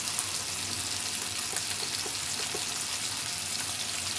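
Ground spices and masala, salt, chili, coriander and turmeric powder, sauté in a hot pan for a prawn and taro stem dish, giving a steady soft sizzle with faint scattered crackles throughout and no voices.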